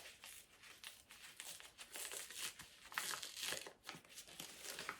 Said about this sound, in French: J'aime bien déchirer les enveloppes en ce moment.